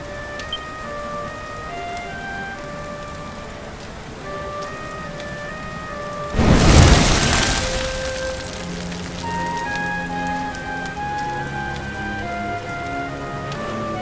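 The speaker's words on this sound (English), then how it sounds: "Looks like the rain's dying down." Steady rainfall in a video game, a constant hiss of rain on surfaces under a melodic game score, with a louder burst of downpour midway, no voices.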